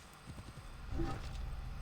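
Horse hooves clip-clopping in Assassin's Creed Origins, a short run of soft, close steps from a newly gained mount over a low game backdrop.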